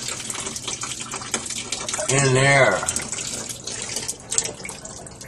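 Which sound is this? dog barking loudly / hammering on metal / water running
water running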